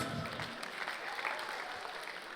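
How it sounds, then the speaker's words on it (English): A live audience applauds at a comedy show in Nigeria, a steady dense wash of clapping sustained throughout, fairly distant and moderately loud, with faint voices mixed in. "round of applause for Afrobeat"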